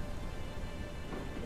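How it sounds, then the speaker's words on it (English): Thunderstorm with torrential rain in the Forsaken Realms video game, a steady, loud wash of heavy downpour with a low rumbling of thunder throughout and no voices. "Others will arrive at night surrounded by fog or in the middle of a torrential downpour."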